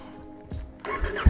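A 2018 Honda Africa Twin Adventure Sports motorcycle engine catches and rumbles up in a brief, close burst after a quiet moment.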